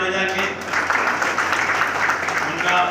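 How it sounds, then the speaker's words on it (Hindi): Audience applause for donors at a Hindi-language ceremony honouring an ACP, a dense steady wash of clapping that starts just after a brief tonal sound and holds loud for about three seconds. "मैं चाहूँगा उनके लिए भी तालियां बजा के"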